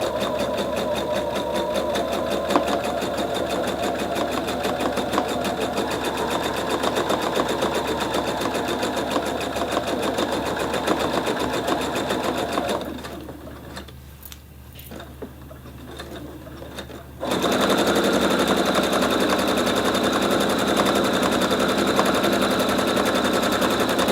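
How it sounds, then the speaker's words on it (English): A Pfaff sewing machine sews a seam in a steady rapid stitching rattle, pauses briefly partway through, then resumes at the same close, loud pace. "I'm going to take it to the sewing machine and I'm going to sew down that seam"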